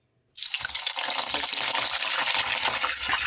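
Wet cauliflower dropped into hot oil for aloo gobi bursts into sudden, loud, continuous sizzling and crackling that carries on steadily without a break.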